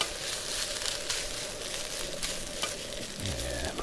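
Seasoning mix being stirred in a pan on a Fox cookware camping stove, a close scraping stir over a steady sizzle, with a brief low thud near the end; no one speaks.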